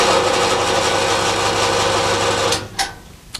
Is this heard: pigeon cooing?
no